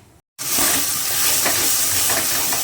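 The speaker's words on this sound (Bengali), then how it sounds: "এখানে তেল বসিয়ে দিয়েছি দিয়ে দেবো জিরে ফোড়ন" Cumin seeds hit hot oil for a pointed gourd curry, bursting into a loud, dense, continuous sizzle right after a brief silence, hissing steadily up close with no talk over it.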